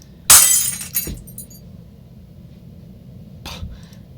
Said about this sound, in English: toss the old bulb into a box, where it shatters amongst other pieces of glass